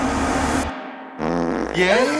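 A fart sounds loud and close as a short low burst, followed by a brief pause and then further sputtering bursts.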